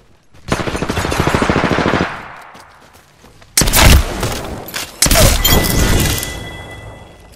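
Rapid automatic gunfire bursts loud and close in a shooter video game, a long rattling volley followed by heavy shots and another sustained burst, with sharp cracks and thuds between.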